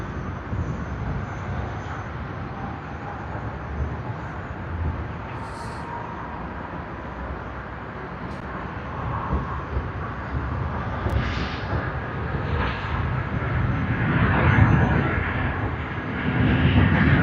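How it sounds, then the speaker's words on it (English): China Southern Airlines airliner on its takeoff roll at Sydney Airport, a broad steady jet engine roar slowly building in strength over the full length, heard from a distance without talk. "CZ3072, China Southern Airlines, it has begun its takeoff roll"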